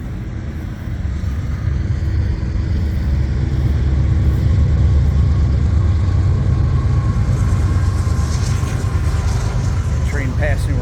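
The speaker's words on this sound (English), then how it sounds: "Train passing right now," A train rolling past at the New York State Fairgrounds, heard as a loud, continuous low rumble that builds and holds for the whole stretch, with faint higher squeals and rattles near the end.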